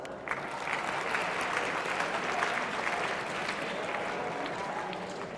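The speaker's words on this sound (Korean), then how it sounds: "박수!" A crowd of high school students claps in a school auditorium, a dense, even burst of applause with a few faint voices mixed in.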